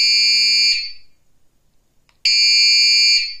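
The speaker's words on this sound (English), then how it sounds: "So this is your horn." Piercing electronic horn of a Yakalla smart bike tail light, two loud shrill blasts separated by a second or so of silence.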